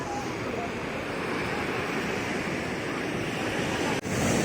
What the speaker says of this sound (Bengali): বহুত এখন জলের ঢেউ অনেক বেশি, বহুত বেশি